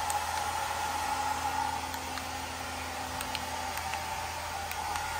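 A hair dryer runs steadily while drying hair just after a shower, giving a constant airy whoosh with a faint motor whine, moderately loud and unbroken from start to finish.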